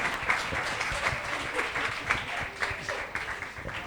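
An audience claps together in celebration at a 100th-episode event, a steady, dense patter of applause filling the whole stretch at moderate loudness.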